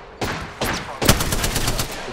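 Incoming gunfire in the video game Apex Legends: three sharp bursts of shots cracking close and loud, the last one a longer rattling volley, with no talk over them.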